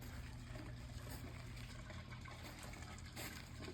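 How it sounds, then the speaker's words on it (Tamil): Water from a small solar-powered backyard garden fountain splashes and trickles continuously, a soft, steady, close gush with no voices. "இந்த தண்ணி சத்தம் பாருங்களேன், கேட்டுட்டு எவ்வளோ நல்லா இருக்குல்ல"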